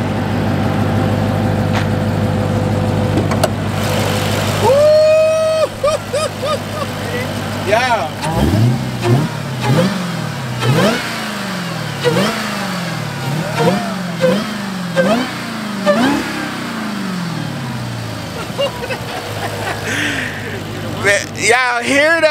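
A Dodge Hellcat engine with the hood open, revved repeatedly: a series of sharp throttle blips rising and falling in pitch, loud and close, with people talking over and between the revs.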